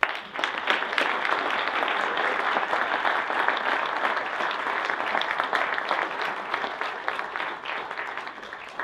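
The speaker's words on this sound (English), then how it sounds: "Let's give Steve a round of applause." Audience applause for speaker Steve Feilmeier at a Startup Grind Wichita event, with dense, steady clapping from a crowd that holds throughout and thins slightly toward the end.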